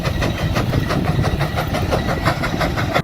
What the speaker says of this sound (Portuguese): Case 150 HP Steam Tractor,